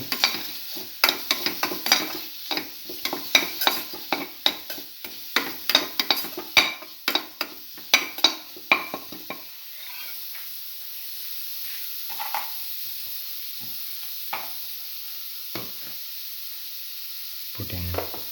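Scrambled egg and coconut stir fry with cinnamon is stirred in a sizzling pan, with rapid scraping knocks during the first half and then a softer, steady sizzle with a few scattered taps.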